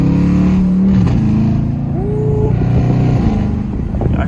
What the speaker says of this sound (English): Y'all hear that exhaust though?